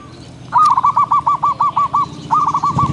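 A Java dove coos at a cooing contest: a rapid series of about a dozen clear, evenly spaced hooting notes, a pause, then more, loud and close over faint background noise.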